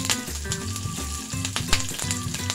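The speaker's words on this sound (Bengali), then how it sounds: "এবার এই তেলটার মধ্যে দুটো কাঁচা লঙ্কা ফোড়ন দিলাম" Green chillies and black cumin tempering in hot oil, a steady close sizzle with a few sharper crackles, running under a continuous background of low tones.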